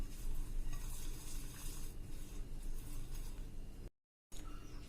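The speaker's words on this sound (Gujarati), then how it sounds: "આ બધા મસાલા થઈ ગયા છે એટલે એને બરાબર તેલમાં આપણે આ રીતે મિક્સ કરી લેશું" A spoon stirs spices into oil in a bowl, a steady, low scraping and mixing texture that runs continuously, briefly cuts to silence, then resumes.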